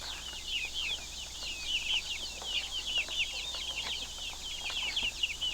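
A flock of baby chicks and growing hens on a homestead keep up continuous high, overlapping peeping chirps with soft clucks mixed in, moderately quiet and with no talking.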